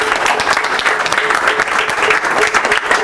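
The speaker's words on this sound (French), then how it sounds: "Applaudissez pour lui." An audience applauds a performer, dense lively clapping that stays loud and even for the whole few seconds.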